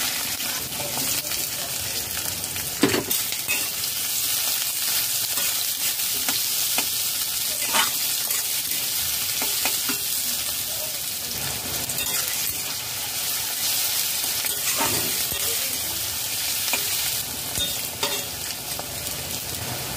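Chopped onion frying in mustard oil with whole cinnamon, cumin and green chillies, a steady loud hiss with occasional scrapes and knocks of a spoon stirring the pan.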